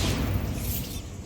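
A Bombarda spell blast in Hogwarts Legacy gives a short, dull booming burst that rumbles low and fades over about a second.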